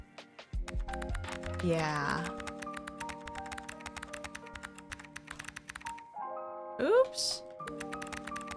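Typing on a computer keyboard with a number pad, a run of quick, crisp key clicks in an uneven rhythm, close by, with a few soft spoken words and some brief tonal noises partway through.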